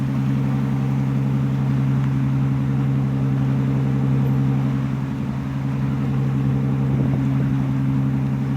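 Steady low droning hum of tour boat engines out on Ha Long Bay, Vietnam, loud and continuous with no break.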